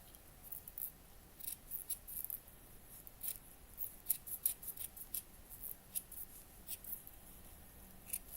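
Scissors snip through felt fabric while miniature room-box pieces are being cut out, a quick series of close, crisp cuts in an irregular rhythm, fairly faint and with no talking.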